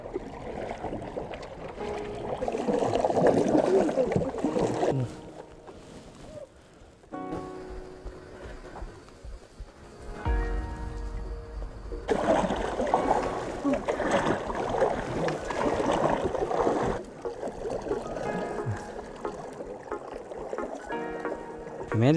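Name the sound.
people paddling a little wooden raft on a lake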